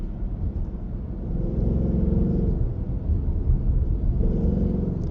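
A 2026 Ford Mustang GT with a six-speed manual pulls in third gear, its engine a steady, loud, deep rumble close to the listener that swells a little partway through and holds with no talk over it.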